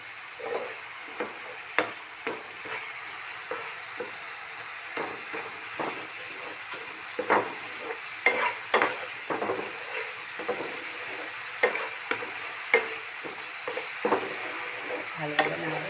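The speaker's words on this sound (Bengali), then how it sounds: "তারপরে ভালোভাবে নাড়বেন।" Gadel leaf paste frying in a pan while it is stirred: a steady soft sizzle runs under a series of close scraping, clattering strokes of the spoon, repeating irregularly throughout.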